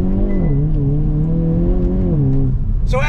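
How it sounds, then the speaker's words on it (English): A 2022 Hyundai Kona N SUV launches on throttle from a dead stop on a rough side street. The engine pulls loud and close with a rising then steady drone, and a brief sharp squeal comes near the end. "I wanna do a quick on throttle launch from a dead stop for you"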